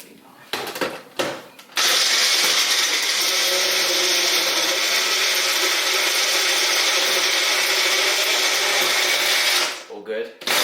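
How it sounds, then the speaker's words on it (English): A blender mixing a smoothie roars steadily for several seconds after a few brief knocks, then winds down and stops near the end. "Then it's ready for the blender."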